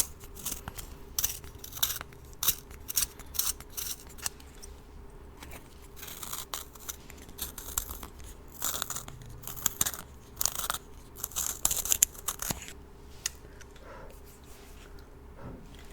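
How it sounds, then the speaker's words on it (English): A pencil being sharpened up close in a quiet room: a long run of crisp, scratchy grinding bursts in a quick, uneven rhythm, fairly soft, with no one talking. "sharpen my pencil after all of that."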